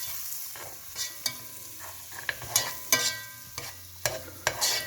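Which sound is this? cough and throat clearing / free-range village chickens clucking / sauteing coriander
sauteing coriander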